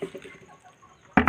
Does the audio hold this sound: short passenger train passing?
no